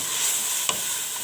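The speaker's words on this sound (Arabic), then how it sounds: "هاد الفلفله هادي حتى هي غادي نخليها تشحر مزيان" Bell peppers frying in a pan for paella, a steady bright sizzle with a brief stir or clink partway through.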